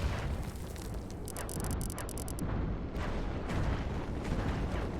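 A mass tank assault in the strategy game Line Wars sets off a dense, continuous barrage of booming explosions and blasts, loud and overlapping throughout.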